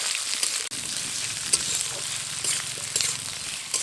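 Four medium chopped onions frying in oil with bay leaf and whole cumin for a kadaknath chicken curry, a steady loud sizzle broken by a few stirring clicks and scrapes, no voices.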